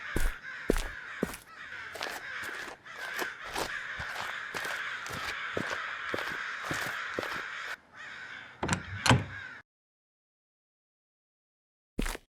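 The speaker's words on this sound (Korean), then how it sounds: "불길한 까마귀 소리를 뒤로한 채 겨우 집을 찾아 집으로 돌아가는 소녀." Repeated crow caws from the horror video game Okaeri, a dense run of harsh rhythmic calls over a steady background for roughly ten seconds, then silence and one last brief caw, with no speech.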